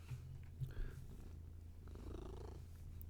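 A cat purring close up, a low, steady rhythmic rumble throughout, quiet and soft with small shifts as the cat moves.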